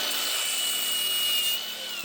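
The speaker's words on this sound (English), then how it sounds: "Let's grind this one and see if we got copper or we got alley." Angle grinder cutting into a scrap air compressor to check for copper windings, a loud, steady high-pitched whine with hiss that runs the whole moment and drops slightly near the end.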